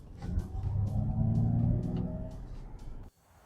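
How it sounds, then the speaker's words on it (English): A 2023 Ford Mustang Mach-E GT electric car plays a synthesized V8-style engine note, a loud, steady low rumble that swells as it accelerates, then cuts off abruptly near the end. "Listen to that fake V8 noise."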